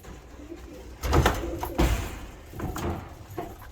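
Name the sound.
young pigeons cooing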